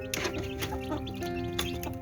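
A hen on a poultry farm clucks close by in a series of short, uneven calls, with no talking over them.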